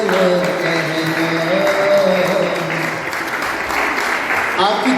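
An audience claps loudly and continuously at a live music show, dense applause sustained across the whole stretch while a voice speaks over it.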